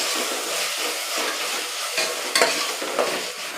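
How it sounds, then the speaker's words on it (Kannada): Tomato masala cooking with rock salt in a pan gives a loud close sizzle, with brisk scraping and sharp clacks of a spoon stirring it through. "ಮತ್ತೆ ಕ್ಲೀನಾಗಿ ಇದನ್ನು ಒಂದು ಸತಿ ಮಿಕ್ಸ್ ಮಾಡಿ."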